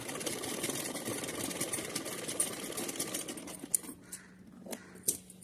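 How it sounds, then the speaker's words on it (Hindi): A sewing machine runs steadily, stitching thin lace onto cotton fabric for a small deity outfit, a continuous close whirr that slows and pauses near the end. "तो चलिए सिलते हैं।"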